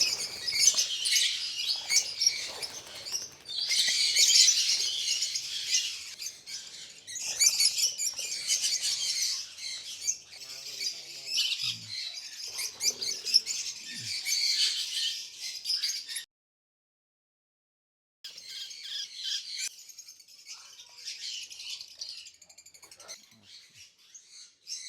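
Lovebirds chirp in an outdoor aviary, with dense high-pitched twittering and squeaky calls from several birds, close by and fairly steady, briefly dropping out for a moment before resuming.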